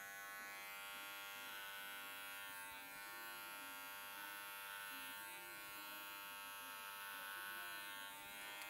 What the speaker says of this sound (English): So you want to blend it in by using your clipper over comb.